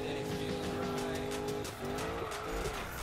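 Ford Mustang with 700 horsepower drifting in Need for Speed: a sustained, loud tire squeal over a high revving engine, with the pitch shifting partway through the slide.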